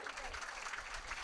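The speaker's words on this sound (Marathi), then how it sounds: "बस वाजवा त्यांच्यासाठी टाळी." Applause from the audience at a Marathi kirtan performance, a short even burst of clapping with speech faintly mixed in.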